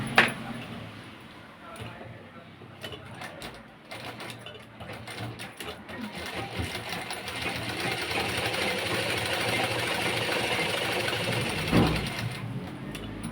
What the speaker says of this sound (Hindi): अब हम एक सिलाई इसके बगल चला देते हैं।